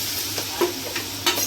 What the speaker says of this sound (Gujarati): તો અહીંયા વઘાર થઈ રહ્યો છે આપણો.